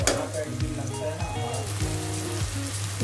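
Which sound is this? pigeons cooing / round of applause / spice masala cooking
spice masala cooking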